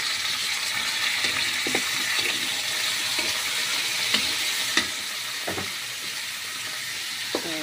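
Chicken breast sautéing in a pan for tinola, with a loud, continuous sizzle and scattered spatula taps and scrapes close by.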